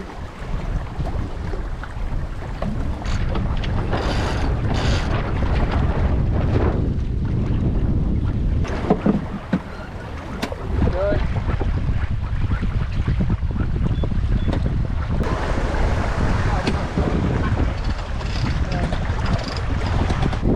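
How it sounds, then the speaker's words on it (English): A 28-foot sailboat running downwind in about 20 knots of wind off northern Spain, with constant loud wind roar on the microphone and rushing water and waves along the hull, and faint voices now and then. "Downwind sailing, it's the dream."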